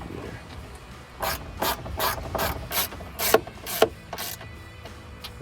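A hand ratchet tightens the air box bolts on a Chevy Silverado 1500 S&B cold air intake, with about ten crisp clicking bursts in an even rhythm, close and clear and without any speech.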